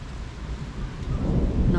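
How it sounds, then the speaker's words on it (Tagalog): Rain falls outdoors on a hot street, a steady hiss with a low rumbling undertone that grows slightly louder toward the end. "Total naman, ulan lang naman ito."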